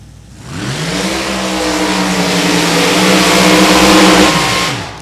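A Fiat Topolino hot rod at a drag racing reunion event revs hard. The engine note climbs and holds a loud, steady roar for several seconds, close by, then drops away abruptly at the end.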